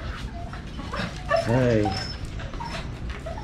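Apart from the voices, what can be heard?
dog barking and whimpering in a vegetable garden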